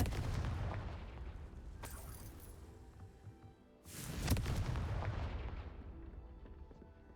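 Two sharp, cracking explosive blasts from the Confringo fire spell in Hogwarts Legacy, the second louder, each trailing into a fading rumble over a low background hum.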